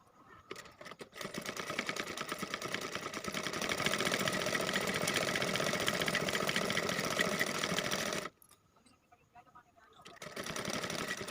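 Sewing machine stitching a cloth bag made from old trousers, a steady close mechanical whirr that runs for several seconds, stops briefly, then starts again.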